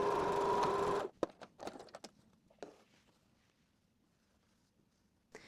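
A sewing machine stitching along the edges of fabric runs steadily for about a second, then stops, followed by scattered clicks and handling noises and a brief final burst.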